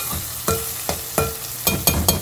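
Aromatics sizzle in a pan for carrot fried rice, a constant close frying hiss punctuated by about six sharp stirring knocks or spatula strikes at uneven intervals.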